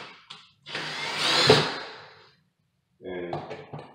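A screw is driven into a floor transition threshold between hardwood and tile, giving one rising and falling powered whir of about a second and a half, followed by a person talking.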